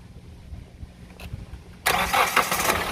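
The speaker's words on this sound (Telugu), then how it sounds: "సో ఒకసారి ఇప్పుడు ఇంజిన్ సౌండ్ అయితే చూడండి, మనకి స్టార్టింగ్ ఎలా ఉంది ఏంటన్నది ఒకసారి చూద్దాం." A 2014 Hyundai Elantra diesel engine cranks and catches after a quiet pause, then runs with a loud, steady mid-pitched hum up close. Nobody speaks.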